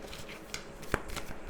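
Large tarot cards are shuffled by hand in quick soft riffling bursts, close and brief, with no talk.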